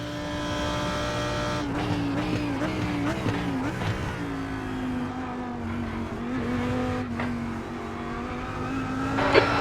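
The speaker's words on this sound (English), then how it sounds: "There's a car exiting the pits, heads up." GT race car in a sim racing game at Spa, engine revving through gear changes with rising and falling pitch, loud and close, with faint other cars around and no talk.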